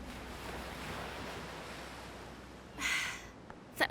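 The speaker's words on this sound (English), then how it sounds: "All of this is the ocean" Ocean waves at Acapulco wash in softly under faint wind, with one surf surge swelling louder near the end before brief thumps of wind noise.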